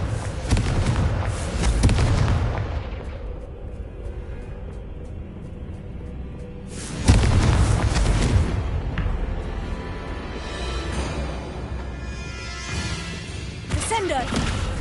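A Confringo blasting spell explodes in a video game, a loud booming burst that rings out near the start and again mid-clip, with a softer third blast near the end, under game noise and talk.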